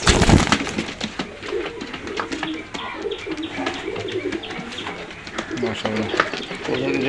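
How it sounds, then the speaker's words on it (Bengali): Sialkoti pigeons coo and flutter up close at a busy pigeon market, with people talking throughout and occasional sharp knocks. "এ দুটো শিয়ালকুটি কবুতর থার্টি ফাইভ শিয়ালকুটি কবুতর"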